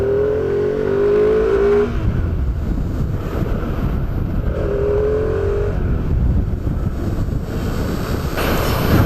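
A motorcycle riding through city streets, its engine droning steadily and close with wind rushing over the microphone and a couple of brief rising revs.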